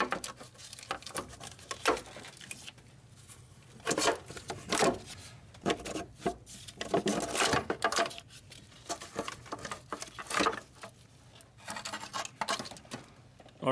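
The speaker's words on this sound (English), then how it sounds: "here comes the valve cover" Valve cover being lifted off a Toyota Highlander engine, heard as scattered close scrapes, taps and light knocks of metal and plastic parts shifting, irregular and moderately loud against quiet workshop background.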